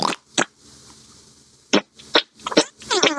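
A voice imitating fart sounds: several short, blurting bursts with pauses between, loud and close, heard alone without ordinary talk.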